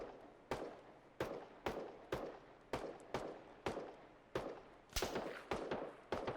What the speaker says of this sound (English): now I'm starting to hear some gunshots kind of come up close to me.